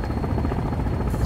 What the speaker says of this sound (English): I'm in a helicopter.